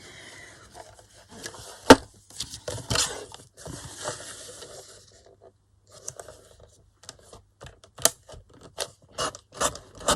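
Scissors trimming paper pages for a vintage-style Christmas journal, a series of sharp irregular snips and crisp paper rustles close up, with short pauses between cuts.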